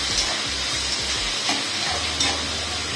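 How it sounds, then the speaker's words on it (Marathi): Tomatoes, capsicum and peas are sautéed in a pan over a full gas flame, giving a steady sizzle with repeated stirring scrapes and knocks, close up and with no talking. "परतवून घ्यायचं आणि गॅस फुल ठेवायचा, फुल गॅसवरच हे परतवून घ्यायचे"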